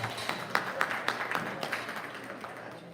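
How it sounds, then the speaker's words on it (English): A crowd at a livestock stock show applauds for the kids who showed, scattered hand claps popping out of a busy hall ambience, moderately loud and fading toward the end. "Let's give them a round of applause."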